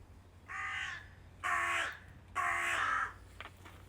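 Three loud, drawn-out crow caws in a row, evenly spaced and close by, over a quiet low hum.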